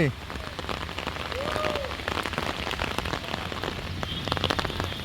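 Steady rain falling outdoors on a village fishing trip in Bangladesh, a dense, continuous close patter of drops with no pause.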